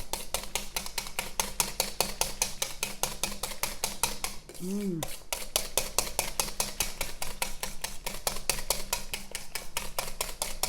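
Coconut milk beaten by hand until fluffy, a fast, steady rhythm of metal whisk clicks against a bowl, close and continuous, pausing briefly midway, with no talking.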